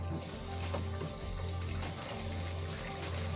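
Water poured into a cooking pot of keema with peas and potatoes, a steady close splashing and sizzling rush that runs without break under a low hum.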